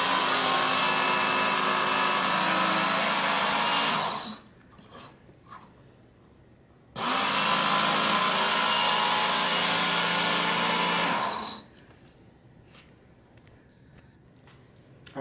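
A Work Sharp electric knife sharpener grinds a blade on its fine belt in two loud, steady passes of about four seconds each, separated by a quiet gap with faint clicks and handling noise, then near-silence.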